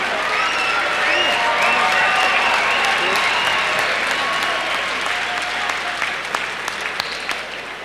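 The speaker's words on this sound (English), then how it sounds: "a round of applause for both fighters" An arena crowd at a K-1 World Grand Prix 2002 kickboxing event gives a loud, sustained burst of clapping that slowly thins toward the end, with a voice faintly under it.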